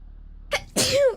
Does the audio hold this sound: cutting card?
no